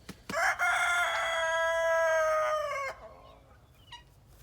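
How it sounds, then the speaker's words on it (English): A rooster crows outdoors among a flock of chickens, one loud sustained cock-a-doodle-doo lasting over two seconds, then quieter clucks and a faint distant call. "There's a lot of chickens out here, and half of those are roosters."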